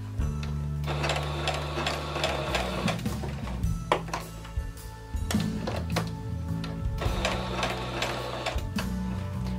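A sewing machine stitches doll clothes fabric, running in short bursts of rapid mechanical chatter with brief pauses and thunks between them as the fabric is turned, heard close and alone.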